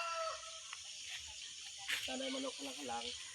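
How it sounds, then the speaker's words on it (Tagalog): A rooster crows once in the latter half, a fairly faint, drawn-out call with a rising then wavering tone, preceded by quieter chirps and faint background sounds. "Agay nagpadungog manok"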